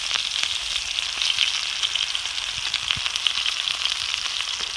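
Blackened Alaskan salmon fillets, seasoned side down, sizzle and fry steadily in a hot pan outdoors, a continuous loud crackling hiss with no talking.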